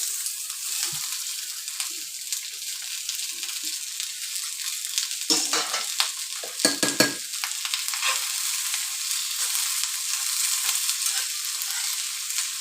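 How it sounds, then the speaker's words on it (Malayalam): Sliced onions, curry leaves and green chilies frying in a pan for a traditional Kerala beef roast: a steady close sizzle with a few clattering stirring scrapes midway, and no talking. "അരിഞ്ഞു വെച്ചിരിക്കുന്ന സവാള രണ്ട് ഇടത്തരം സവാള കറിവേപ്പില പച്ചമുളക് ഇത്രയും എടുത്ത് നല്ലവണ്ണം ഫ്രൈ ചെയ്തെടുക്കണം"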